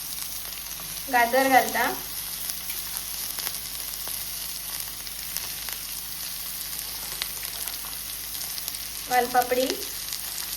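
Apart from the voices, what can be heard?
vegetables sizzling while sautéed for veg pulao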